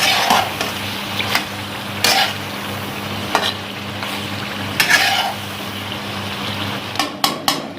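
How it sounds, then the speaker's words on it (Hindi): Chicken karahi with white pepper is stirred and fried in a pan, a constant low sizzle under repeated sharp scrapes and clinks of the spoon against the metal, coming every second or so and clustering near the end. "अच्छी तरह मिक्स कर लेना इसे।"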